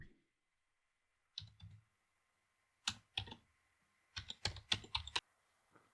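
Typing a new password on a computer keyboard, quiet and close: a short burst of clicks, two separate taps, then a quick run of rapid keystrokes and a single soft final click.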